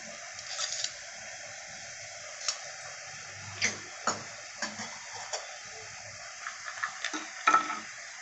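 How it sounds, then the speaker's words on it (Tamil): Fenugreek seeds roasting in a pan for ash gourd halwa, a faint steady sizzle broken by scattered soft ticks and scrapes of stirring. "வெந்தயம் நல்லா வறுப்பட்டுடுச்சு"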